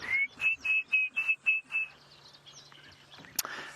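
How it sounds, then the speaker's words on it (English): An orange-breasted bushshrike calls at sunrise in the Sabi Sand bush, a series of about seven clear whistled notes in steady rhythm, fairly close, followed by quieter background sounds and a sharp click. "That was the orange-breasted bushshrike."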